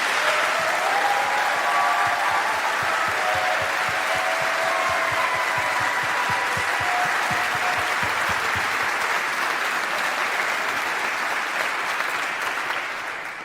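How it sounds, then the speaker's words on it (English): A large audience gives a long, sustained round of applause at a ceremony where honorees are about to take an oath of office, dense and even clapping that stays loud throughout before tapering slightly at the end. "Let's give them a huge round of applause."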